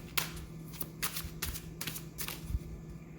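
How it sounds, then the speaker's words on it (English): Tarot cards are shuffled by hand close up in a series of crisp riffling bursts, repeated rhythmically about every half second, with no one speaking over them. "Let's shuffle for another one."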